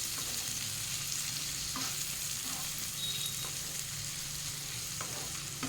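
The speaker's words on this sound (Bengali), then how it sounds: "তিন থেকে 4 মিনিট ভেজে নেবো টমেটো দিয়ে।" Chopped tomatoes fry with spices in a pan for a Bengali spiced chicken sauce, giving a steady, even sizzle throughout with a few soft scrapes of stirring.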